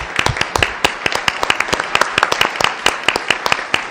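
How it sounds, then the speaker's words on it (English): Board of trustees meeting audience applauding the Long Range Planning Committee, a burst of many hands clapping in quick, dense rhythm, near and loud, sustained for several seconds. "If you guys would just stand up and let us applaud you"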